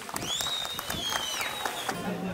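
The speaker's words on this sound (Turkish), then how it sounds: "Güçlü bir alkışla başkanımızı uğurluyoruz." Crowd applause at an outdoor community picnic as the mayor is seen off, a soft, dense spread of many hands clapping at a distance, with a whistle-like tone sliding over it.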